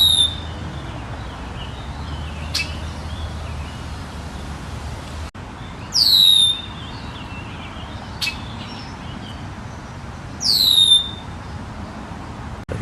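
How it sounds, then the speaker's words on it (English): A red-winged blackbird in a tree gives three clear, high, sliding calls spaced several seconds apart over quiet outdoor background noise near a mill pond, with a couple of faint clicks in between. "Red-winged blackbird up there in that tree."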